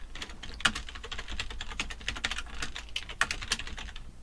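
Code is typed into Android Studio on a computer keyboard, with a fast, irregular stream of close, crisp key clicks and a few louder keystrokes, no talking.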